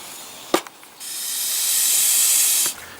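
Vacuum pump oil extractor drawing engine oil out of a Mercedes-Benz R129, giving a steady loud airy hiss that swells and holds for about two seconds after a sharp knock, then cuts off abruptly.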